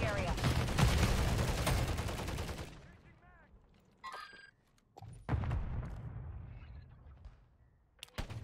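Automatic gunfire crackles loudly in a Call of Duty MW3 match, a dense burst for the first few seconds, then fading into scattered shots and sparse noises with quieter gaps.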